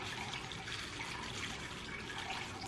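Rolled oats pour in a steady, dry, granular rush for a few seconds, a continuous soft hiss with no pauses, fairly quiet and close.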